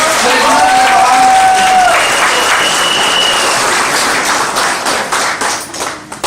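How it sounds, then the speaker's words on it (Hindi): Loud, sustained applause and clapping from an audience at a large team training event in Odisha, a dense crowd roar that holds steady for several seconds before thinning into scattered claps near the end. "बहुत जोरदार धमाकेदार दिल से ताली बजाना चाहिए।"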